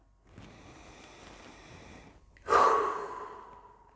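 A single deep breath: a quiet, drawn-out inhale for about two seconds, then a louder, breathy exhale that fades out slowly. Close and clear, with no talking.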